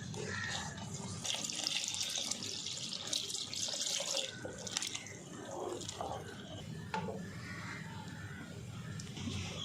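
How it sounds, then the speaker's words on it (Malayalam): Thin second-extract coconut milk poured into a pan of rice and dal payasam, a steady splashing liquid pour that swells and eases over several seconds, close and fairly loud. "നമുക്ക് ഇതിലോട്ട് രണ്ടാം പാൽ ഒഴിച്ചു കൊടുക്കാം."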